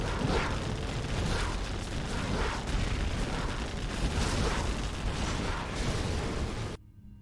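Heavy booming bursts from a missile launcher in a strategy video game pound almost nonstop, layered with mechanical clatter and rumble, then cut off abruptly near the end.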